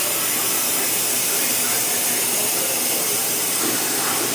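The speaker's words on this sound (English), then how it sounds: "I don't believe it'll open until all that steam is completely released" Steam vents from an Instant Pot pressure cooker as a loud, continuous broadband hiss, steady throughout with no letup and no clear speech.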